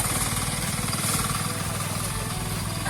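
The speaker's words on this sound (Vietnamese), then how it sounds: "Đây là máy cắt cỏ nhưng mà hôm nay chúng tôi cố tình cho vào để băm cái đám ngô này." A diesel-powered grass cutter deliberately fed corn stalks, grinding and chopping them with a loud, steady, rough mechanical roar that holds throughout with rhythmic pulsing.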